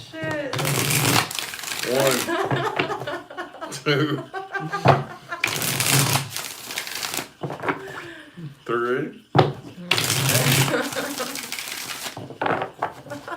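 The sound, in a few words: shuffling tarot cards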